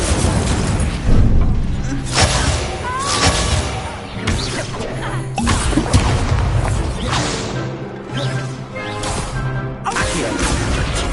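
Fire spells cast in the video game Hogwarts Legacy: repeated loud whooshing bursts and crackling flares, one after another over a dense rumbling combat backdrop with crashes and booms.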